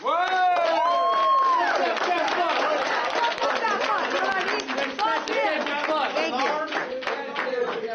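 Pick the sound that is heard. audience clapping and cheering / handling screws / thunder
audience clapping and cheering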